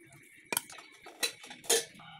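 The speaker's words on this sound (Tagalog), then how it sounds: "Haluin lahat ng sangkap." A utensil stirs okra with salted egg and pepper in a dish, making a few soft scrapes and light clinks against the bowl, faint and close.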